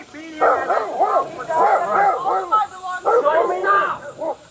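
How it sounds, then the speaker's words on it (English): A dog barks and yips repeatedly during a tense police domestic incident, loud, close bursts in uneven runs with voices mixed in. "Sorry, but he has a dog."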